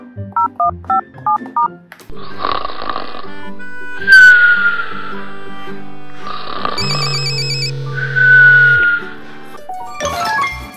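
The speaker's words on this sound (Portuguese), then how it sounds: "O telefone tá chamando." A telephone dials with a short run of keypad tones, then a phone ringtone rings twice in long repeating bursts, loud and close, in a children's story.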